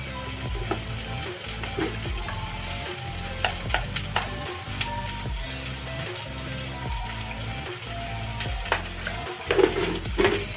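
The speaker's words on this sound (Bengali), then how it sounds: "এইগুলো দিয়ে ভালো করে মশলাটাকে একটু নেড়ে চেড়ে নেবো" Spice masala with salt and turmeric sizzling loudly in a pan while being stirred, with repeated rhythmic scraping strokes of a spatula over a continuous frying hiss, close and prominent.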